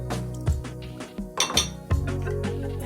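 A spoon clinking against a pot while mixing chicken rice soup: several bright metallic clinks and rings in a loose rhythm, close and fairly loud, with no voice.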